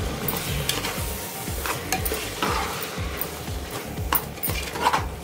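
Carrot, beetroot, potatoes and other vegetables frying for pav bhaji are stirred in a pan, with a steady sizzle under repeated rhythmic scraping strokes of a spoon, close and fairly loud, no voices.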